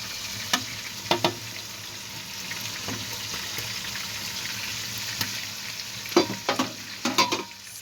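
Spaghetti goes into a pot of boiling salted water, giving a continuous bubbling hiss with several clattering knocks and splashes as the strands are dropped in and moved about.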